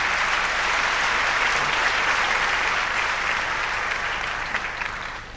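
Sustained applause from a large audience at a Pakistan Air Force show, steady and loud for several seconds before tapering slightly at the end, with no speech over it.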